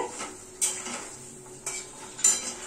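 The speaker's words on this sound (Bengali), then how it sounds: "দেখো দইটা নিয়ে দিয়ে এখন আর মশলাটা দিয়ে আমি একটু কষিয়ে দিচ্ছি।" Utensil clinks against a pan as spice paste and yogurt are stirred together while cooking, a few sharp metallic scrapes and taps over a quiet kitchen background.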